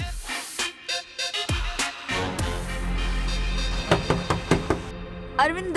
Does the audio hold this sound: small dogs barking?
no